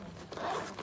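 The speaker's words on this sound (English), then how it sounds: "Zip it up." A short zipper pull closes a fish finder carry bag for a Garmin Striker 4 kit, a quick single rasping zip heard close and fairly quiet.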